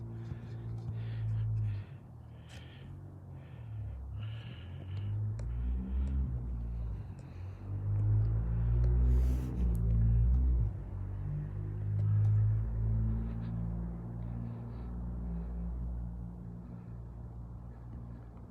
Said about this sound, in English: Somebody started up a very noisy car.